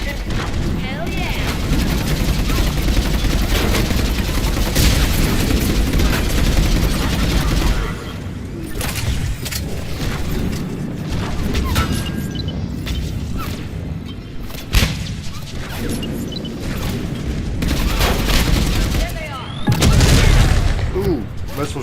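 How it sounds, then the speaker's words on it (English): Missile strike explosions and gunfire in a Mass Effect 3 battle at Grissom Academy, dense bursts of booms and rattling shots in heavy volleys, with sharp blasts near the middle and end, under occasional voices. "Ooh, missile strike."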